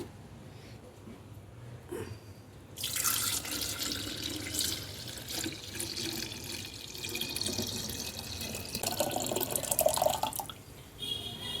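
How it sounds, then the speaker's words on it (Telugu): Tamarind and jaggery water is poured into a clay pot for an Ugadi festival dish, a splashing, gurgling pour that starts after a quiet moment, runs several seconds and fades, fairly soft. "ఇప్పుడు ఇది కుండలో పోసుకుందాము"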